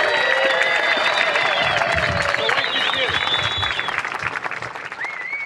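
A crowd at the Caparica Surf Fest finals claps and cheers for the finalists with piercing whistles on top. The loud, sustained applause tapers slightly toward the end as the whistling continues.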